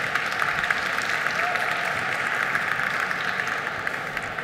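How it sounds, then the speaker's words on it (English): Conference audience applauding a product lead as he comes up to speak, steady, moderately loud clapping that carries on without a break. "Could we please have a big round of applause for Ben Flast?"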